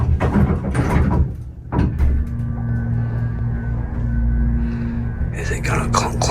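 An elevator in a hotel clunks loudly with a deep thud, then its doors slide open with a low rumbling drag; a voice talks briefly at the start over the machinery.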